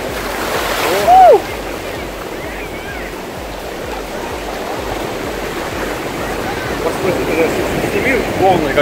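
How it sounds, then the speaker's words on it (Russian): Large ocean waves break on a beach in the Dominican Republic, a continuous loud roar of surf with faint voices nearby. "Волны, как сейчас я пойду, вообще огромные волны, прям реально"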